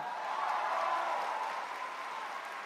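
Audience applause fills a hall at the grand final of a Malaysian national inter-varsity debate, a steady, dense wash of clapping that swells slightly and then holds evenly throughout, with no voices over it.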